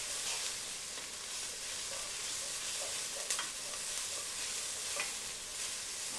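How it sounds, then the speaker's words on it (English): A spoon stirs chicken chili in a pot with browned bits on the bottom, quiet scraping strokes over a low, steady sizzle, close and without talk. "Give this a stir."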